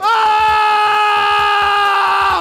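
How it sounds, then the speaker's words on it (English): A person screams loudly into a game's microphone input in place of blowing, one sustained, strained cry of pain lasting a couple of seconds, harsh and close with no other sound. "So instead of blowing, you can scream in pain like this."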